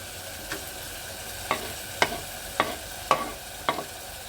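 Masala frying in a pan for biryani, a soft steady sizzle punctuated by about six sharp spatula scrapes and taps at a roughly regular pace, close by and fairly quiet.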